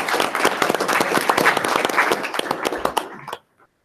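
Board members at a CWCB meeting clap for a round of applause, a lively burst of many hands with distinct individual claps that tapers off quickly and stops into silence.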